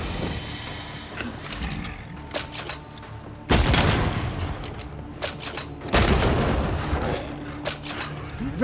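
Enemy gunfire in the action game Banishers: Ghosts of New Eden, with a few sharp crackling shots and two heavier bursts of fire booming close over low background game sounds.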